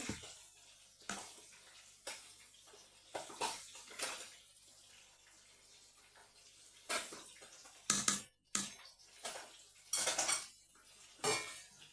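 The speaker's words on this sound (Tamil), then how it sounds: "நான் இப்போ தான் கறி வச்சதுக்கு ஒருக்கா இந்த கரண்டி வைக்கிறேன்" A metal ladle stirs an oil-free fish curry in a pot. It makes sharp, irregular clanks and scrapes against the vessel in bursts, with brief watery sloshing between them and no talk.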